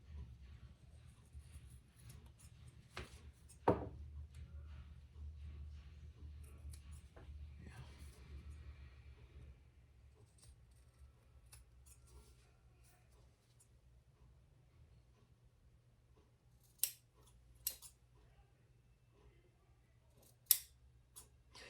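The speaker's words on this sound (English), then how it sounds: "I'm gonna have to trim this before I stitch, otherwise I'll be way off" Scissors trim a small leather wallet piece before stitching, with quiet snips and handling noises, then a few sharp, isolated cuts near the end.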